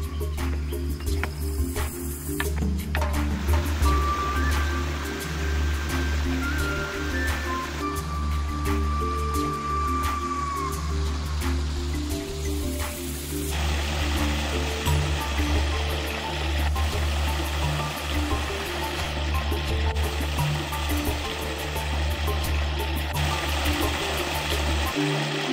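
Waterfall in the Kolli Hills running with a moderate flow, giving a steady, dense roar and splash that holds at a constant level throughout, close by and uninterrupted by any talking.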